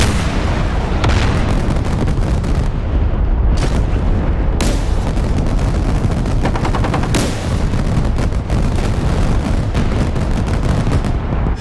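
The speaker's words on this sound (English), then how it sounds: "Spectre lights up, everything just blows up" AC-130 Spectre gunship in the DCS combat simulator pouring fire onto ground targets over Helmand, Afghanistan: dense, loud rolling cannon and gun bursts layered with booming explosions, continuous across the whole stretch.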